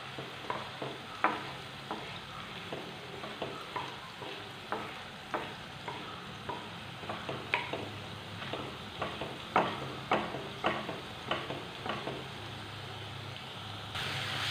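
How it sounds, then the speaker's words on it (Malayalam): Mustard seeds in hot oil crackle and pop in a quick uneven series of sharp little bursts over a soft sizzle, close by and fairly faint. "കടുക് പൊട്ടിയിട്ടുണ്ട് കേട്ടോ."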